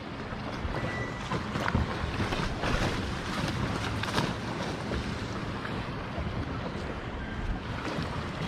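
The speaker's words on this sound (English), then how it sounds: "These waves are big." Big waves on Deep Creek Lake slap and wash against a kayak while wind buffets the microphone. The churning water and gusty rushing noise continue steadily throughout, with occasional sharper splashes.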